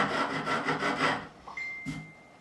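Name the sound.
coarse file beveling guitar fret ends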